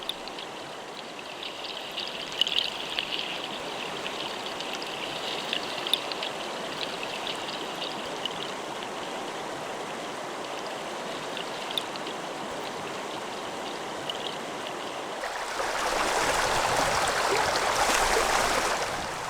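A river swollen after rain during a salmon run rushes and gushes steadily, with a louder, fuller surge of water toward the end and no voices.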